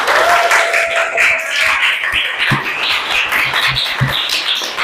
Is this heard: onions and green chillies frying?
no